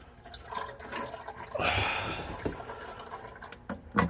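Oil gushing from a loosened drain plug into a bucket, a broad liquid rush that starts partway through and pours steadily, close and fairly loud, with a few clunks near the end.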